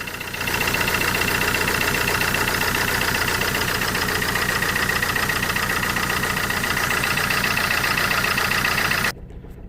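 Vauxhall Corsa D 1.3 CDTi diesel engine idling with a misfire, a steady close, loud rumble with a faint uneven knock running throughout, then cutting off sharply near the end.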